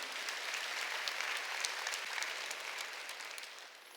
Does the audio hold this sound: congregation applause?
yes